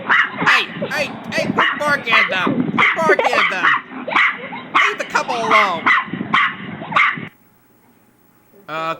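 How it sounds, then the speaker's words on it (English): A dog barks repeatedly at a couple on screen during a Christmas cat episode, sharp close yaps mixed with voices talking over them, then falling quiet near the end. "Hey, quit barking at them."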